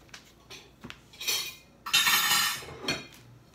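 Dishes and a metal pan clink and clatter as a boxed-mix cake is flipped out, a few light taps followed by two louder rattling bursts, close by with no talking.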